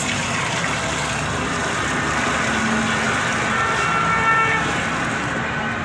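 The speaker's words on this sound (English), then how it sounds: "Sorry about the noise, we are on the road" Continuous road traffic noise, a steady broadband rumble of passing vehicles, fairly loud and constant without pauses.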